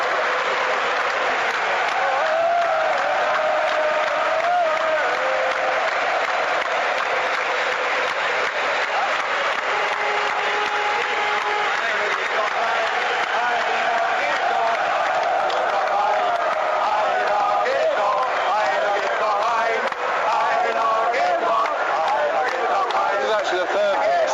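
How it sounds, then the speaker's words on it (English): A German football crowd at a 2006 World Cup match sings a wordless chant and cheers, a dense, continuous roar of massed voices with sustained tonal singing rising through it, loud and steady throughout. "the German crowd are singing the instrumental version of the Graham Poll song"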